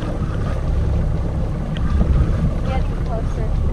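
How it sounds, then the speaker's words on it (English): A fishing boat's engine rumbles steadily as it slows while trolling, with wind and water noise, the motor drone continuous and fairly loud throughout. "let me slow down the boat a little bit"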